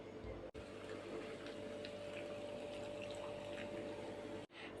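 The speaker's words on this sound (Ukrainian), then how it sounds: "Все яблука залила до самого верху окропом." Boiling water pours over thinly sliced apples to make a homemade apple drink, a steady, quiet gushing stream running continuously at close range.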